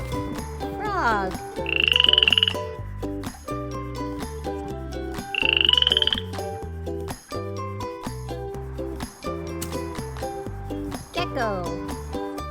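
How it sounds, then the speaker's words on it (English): Cartoon frog croaking in a children's animal-learning song, two bright rising croak calls over a steady, busy musical backing with tinkling accents. "Frog."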